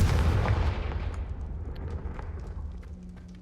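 A Confringo fire spell blasts in the Hogwarts Legacy video game: one loud, deep booming burst that rolls and fades slowly into a long rumbling tail.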